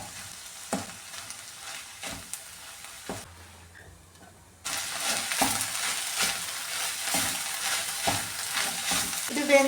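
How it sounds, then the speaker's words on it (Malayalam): Bitter gourd thoran frying in a pan, a dense continuous sizzle with repeated stirring scrapes. A short quieter stretch in the middle gives way to a louder, fuller sizzle, close up and without voices. "ഇനി ഇതൊന്ന് ഇളക്കി കൊടുക്കാവേ"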